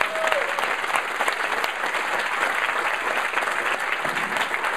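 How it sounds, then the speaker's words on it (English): An audience at a venture capital talk bursts into steady, sustained applause that stays full and even throughout, with no speech over it. "So, first, round of applause."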